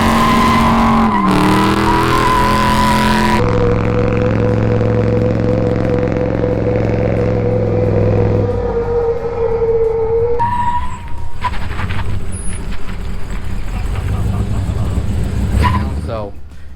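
An old-school car with a Vortec V1 supercharger making about 4 pounds of boost and a close-ratio six-speed drives hard, its loud, whining engine note climbing and dropping through gear changes close by.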